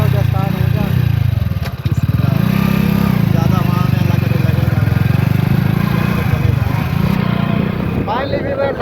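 A motorcycle carrying seven people, including small children, rumbling along at a steady low idle-like drone, loud and close with rattles and scraping, while voices chatter over it.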